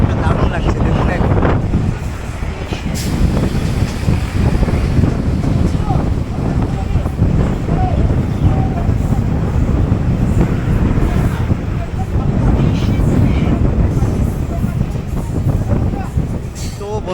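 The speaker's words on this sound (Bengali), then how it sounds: "মানে দ্বিতীয়তম স্টেশনে এসে ট্রেন থামলো, সেটা হচ্ছে বালি হল্ট।" A local train on the Dankuni to Sealdah line rumbling steadily from inside a carriage, loud continuous wheel and wind noise with clattering, while people talk intermittently throughout.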